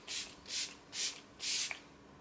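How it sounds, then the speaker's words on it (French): Makeup setting spray misted onto a face in four quick, evenly spaced bursts, each a soft airy hiss, close and alone with no talking. "je vais remettre un petit peu de spray de LF du coup"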